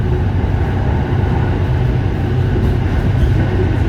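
An electric commuter train on the Red Line between Taling Chan and Bang Sue runs at speed, a loud, steady broadband rumble of wheels and motors with no break and no voices.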